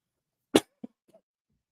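A single sharp cough followed by a smaller second cough and faint throat noise, close and dry against otherwise silent surroundings.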